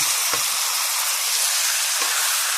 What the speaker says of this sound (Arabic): نسيبها برضو 5 دقايق على النار.